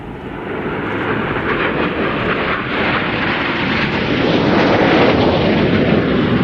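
An aircraft at an air show roars through an aerobatic manoeuvre, a loud, sustained broadband rumble that swells slightly toward the end.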